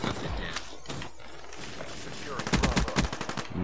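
Rapid gunfire bursts in Black Ops 3 Domination multiplayer, with scattered shots early and a dense, loud burst of automatic fire near the end, mixed with game noise and a faint voice.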